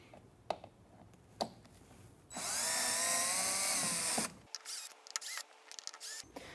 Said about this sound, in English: We are going to remove these 4 screws here with your drill